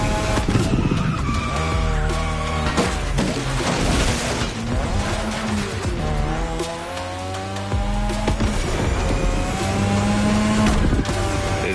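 A third-generation 2002 Mazda RX-7 with a rotary engine races in The Crew Motorfest. The engine screams loud and constant, rising and falling through the gears, with tire squeals and skids along the way.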